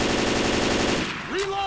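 Rapid automatic gunfire in the video game Left 4 Dead 2, a loud close burst of evenly spaced shots that stops after about a second, followed by a brief voice.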